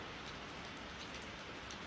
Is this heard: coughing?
no